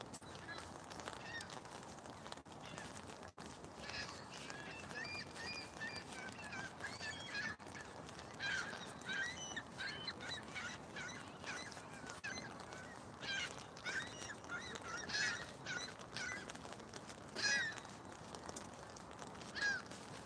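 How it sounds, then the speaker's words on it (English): Distant waterbirds being fed at HTO Park beach honk and squawk in an excited, overlapping chorus, faint and scattered over a low ambient background. "Looks like someone is feeding the birds and they're going nuts."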